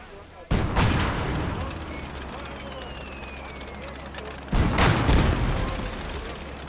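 Two heavy booming tank cannon shots in the World War II game Gates of Hell, one near the start and another about four seconds later, each followed by a long rumbling decay over a steady low engine drone; voices talk over it.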